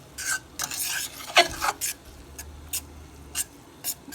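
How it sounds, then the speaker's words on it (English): A spoon stirs watercress soup in a pot, giving a series of short scraping clinks and knocks at an irregular rhythm, close and fairly quiet, with a low background hum. "And then let's give it a stir."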